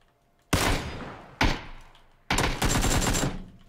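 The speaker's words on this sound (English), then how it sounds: "I'm being shot by a Tommy gun." Tommy gun fire in PUBG, three loud bursts of rapid automatic shots close by, with the last burst the longest. Each burst fades out into a short pause.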